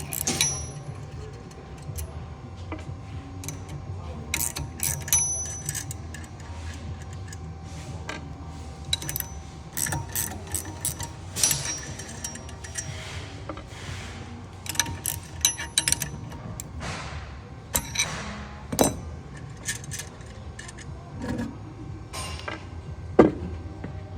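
An 11/16 wrench works the end cap loose on a Flo-Tite valve held in a vise, producing repeated close metallic ratcheting clicks and clanks in irregular bursts, with some handling noise between them.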